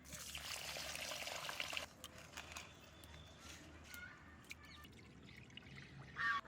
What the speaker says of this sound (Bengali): আমি এবার চালটা ধুয়ে দেবো।